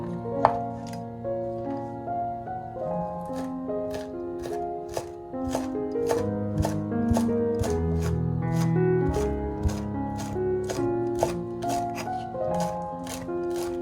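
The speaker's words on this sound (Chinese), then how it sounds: "准备几根香菜，清洗干净以后再切成香菜碎" Fresh cilantro being chopped with a knife on a board: an even series of crisp, close knife strikes at a brisk steady pace, heard over soft background music.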